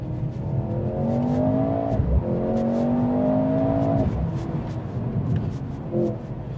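A Mercedes-AMG C 43 4MATIC V6 engine on the move: a steady, moderately loud engine hum that climbs in pitch, drops sharply at a shift, climbs again and settles as it downshifts, with no voices.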